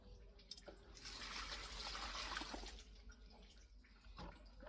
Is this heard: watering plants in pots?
yes